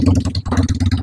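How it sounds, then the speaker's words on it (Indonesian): Benelli bobber motorcycle, a 2022 model, idling after a starter start, its exhaust giving a steady, close, loud low burble with distinct individual beats and a brief dip midway. "Tuh, suara knalpotnya."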